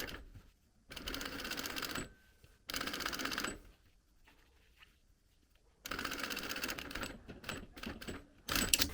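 Domestic sewing machine stitching backtacks at each end of a welt pocket opening, on the top and underside: short bursts of rapid mechanical stitching separated by quiet pauses, close and clear with no talking.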